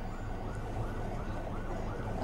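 An ambulance siren wails steadily as the vehicle sets off through a green corridor toward AIIMS Delhi, its rising and falling tone fairly faint and distant beneath road rumble.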